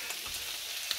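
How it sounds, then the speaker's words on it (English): Saucisson, peppers and onions sizzle in a pan in a steady, close frying hiss with faint crackles and no talking. "the saucisson, the peppers and the onions are sizzling away in the pan"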